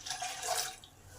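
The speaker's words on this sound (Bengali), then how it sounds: "জলটা আমার টকবক করে ফুটে উঠেছে" Water in a pot heated to a rolling boil for rice flour dough, a steady, close bubbling and hissing wash that runs alone throughout without pauses.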